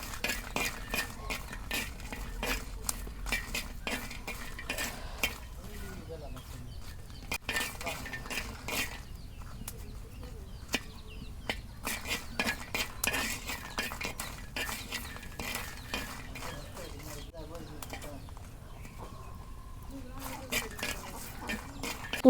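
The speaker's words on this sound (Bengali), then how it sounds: "এখন আমি দিয়ে দেবো শুকনা মরিচ, দুটো একসাথে ভাজা নিতেছি।" Dried red chilies and garlic are fried together and stirred in a pan, giving faint repeated clinks and scrapes of a utensil at a low, steady level, with a voice talking at times.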